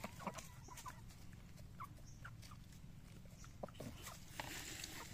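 Native chickens, including a black hen with a dark blue sheen, cluck faintly and intermittently in a noisy farmyard, with scattered soft calls over a steady background hum and no one talking.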